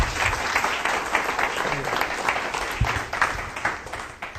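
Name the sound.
audience applause welcoming a speaker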